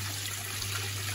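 A backyard shower water feature at a koi pond runs steadily, a constant close hiss and splash of falling water with a low hum underneath, no voices.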